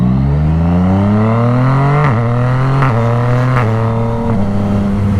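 Yamaha FZ-09 motorcycle with a Two Brothers exhaust and custom tune revs loud and close, its engine note climbing steadily then dipping and surging again in several sharp throttle blips.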